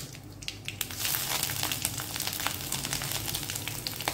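Chopped ginger frying in hot oil with popped mustard seeds, fennel, urad dal and curry leaves in a Tamil egg stir-fry, a steady close crackling sizzle with sharp pops throughout and no talk.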